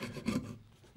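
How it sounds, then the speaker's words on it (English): A sharp hand chisel pares wood on a dining table leg: one short, close rasping scrape, then it quickly fades to quiet. "because I've got a nice sharp chisel here, let's just finish that off by hand"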